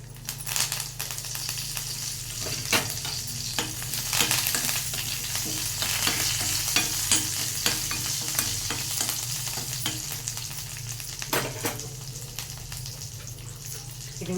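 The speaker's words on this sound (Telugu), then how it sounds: "ఇదిగోండి పోపు వేగింది" Tempering spices with garlic, dried red chilli and curry leaves frying in hot oil crackle in a dense, continuous sizzle, heard close and steady throughout with frequent sharp spits and pops and no talking.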